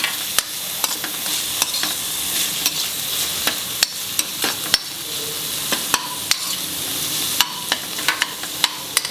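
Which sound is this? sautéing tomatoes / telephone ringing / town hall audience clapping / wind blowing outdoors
sautéing tomatoes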